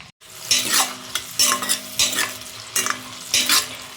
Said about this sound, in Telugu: బాండీలు అయితే టమాటా వేసి కొద్దిగా అయితే మగ్గనిద్దామండి